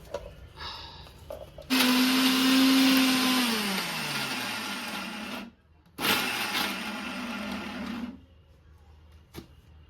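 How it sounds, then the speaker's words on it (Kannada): A mixer grinder whirs loudly grinding a wet paste with water, running for a few seconds, stopping briefly, then starting again before cutting off. "ಇದನ್ನ ಹಾಕೊಂಡು ಮಿಕ್ಸಿಯಲ್ಲಿ ಹಾಕೊಂಡು ಚೆನ್ನಾಗಿ ರುಬ್ಕೊಳ್ಳಿ"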